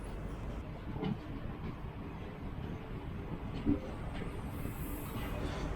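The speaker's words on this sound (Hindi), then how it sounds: "उस्लापुर स्टेशन से अब हमारी ट्रेन निकल चुकी है" Narmada Express train number 18233 pulling out of Uslapur station, a steady low rumble of the moving train with faint rolling noise and one or two brief knocks.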